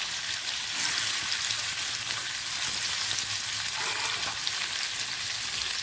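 Paneer shallow fries in hot oil, a loud, dense, even crackling sizzle that carries steadily and close throughout with no talking.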